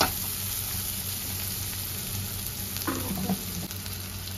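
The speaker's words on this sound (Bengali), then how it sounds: "এবার সবকিছু দিয়ে মশলাটাকে মিক্স করে একটু কষিয়ে নেব।" Spice masala with red chilli powder, turmeric and garam masala fries in a pan for a fish-head lentil dish, giving a steady close sizzle with a few brief scraping stirs near the end.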